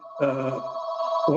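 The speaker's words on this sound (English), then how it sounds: "sorry about that phone ringing" A telephone bell rings twice during a town meeting committee session, two bursts of harmonic ringing with a steady tone between them, close and clear.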